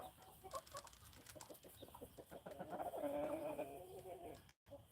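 Chickens cluck and murmur close by while being fed on a farm, a busy flurry of soft clucks that grows fuller midway and stays fairly quiet overall.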